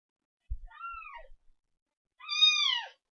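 A house cat gives two clear meows, the second louder and longer, separated by a short silence, close and alone.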